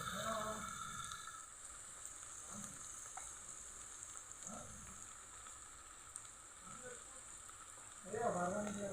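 Tea simmers in a pot with a soft, steady bubbling hiss, quiet and continuous, while voices talk intermittently nearby.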